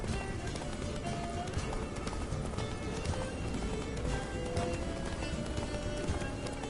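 Roach, Geralt's horse in The Witcher 3, gallops with steady rapid hoofbeats over a dense game mix of wind and music, with occasional voices and a faint whinny.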